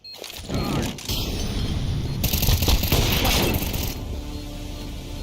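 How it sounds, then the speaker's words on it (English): A flashbang goes off in a Counter-Strike 2 round, a sharp loud burst followed by a bright crackling wash that lingers a few seconds before fading into match noise. "I throw the flashbang."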